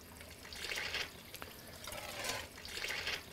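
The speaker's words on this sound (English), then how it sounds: "Watch the water come up slowly." Water runs and gurgles quietly in bursts, rising and falling as it fills a GX300 water filter housing, with faint clicks between surges.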